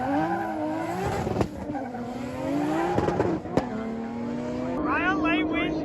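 Drag race cars with up to 1200 horsepower run head to head at a Ten Of The Best race event, engines roaring and revving through gear changes, with sharp pops, a close, loud rising whine near the end, and voices over the top.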